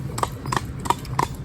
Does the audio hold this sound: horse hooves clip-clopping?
yes